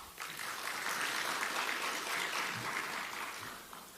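Applause from a conference audience at a digital community project event, a steady broad wash of clapping holding for several seconds at moderate distance before easing slightly toward the end.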